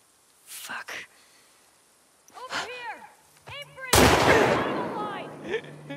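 Gunshots in The Last of Us Part II: a few sharp cracks early, then a loud close blast near the four-second mark with a ringing decay, amid grunting voices and in-game dialogue.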